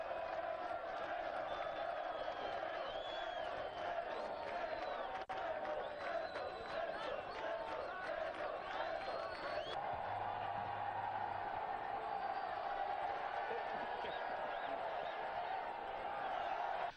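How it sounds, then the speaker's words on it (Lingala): Crowd at a station ceremony in Luau, a continuous roar of cheering, clapping and voices, loud and sustained throughout with shouts rising above. "Tout d'un coup, un tonnerre d'applaudissements envahit l'atmosphère."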